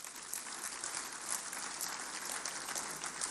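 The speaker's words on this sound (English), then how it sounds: "I think you should clap for him" Audience applause at a public lecture honouring General Yakubu Gowon at ninety, a steady, dense patter of many hands clapping at moderate distance, fairly quiet and without a break.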